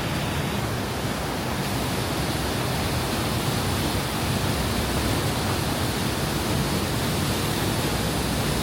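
Waterfall at the end of a climbing route, a loud, unbroken hiss of rushing water heard from close by, alone with no talking.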